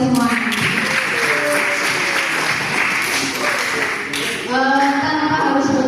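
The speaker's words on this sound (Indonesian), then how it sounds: "Tepuk tangan dulu buat kita semua." Students at a media literacy session at SMA Diponegoro 1 Purwokerto applaud together, a continuous patter of hand claps mixed with voices and chatter from the room.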